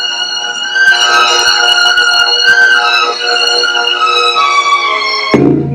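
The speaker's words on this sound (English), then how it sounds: "you hear how this string is bending so much" A single plucked string rings loudly and close up, its pitch bending and wavering as it sustains for several seconds before being cut off abruptly.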